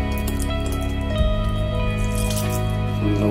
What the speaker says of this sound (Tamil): வெள்ளைப்பாலை நம்ம ஊற்றி